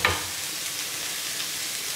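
Pak choi cabbage sautés in a pan after garlic, with a continuous bright sizzle and faint stirring. It opens with a brief clink, then holds steady without speech.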